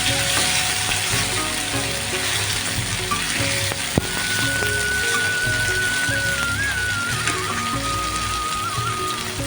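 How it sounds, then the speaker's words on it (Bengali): Lentil dhoka cakes deep frying in hot oil in a wok make a dense, bubbling sizzle that stays loud and steady, with occasional stirring scrapes and a sharp knock partway through. "কড়াইয়ে তেল গরম করতে দিয়েছিলাম, এখন আমি ভেজে নেব।"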